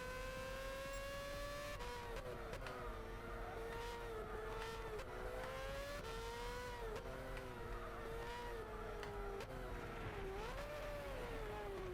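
A race car's engine drones and shifts pitch through gears while lapping the Nürburgring in Gran Turismo 6 on PS3, a steady loud whine rising and dipping through corners, with brief tire squeals and no talk.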